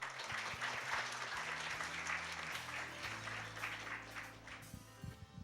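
A conference audience at an open-source software awards ceremony applauds to welcome a director to the podium, a moderate, steady clapping crowd heard over low background music, fading slightly toward the end.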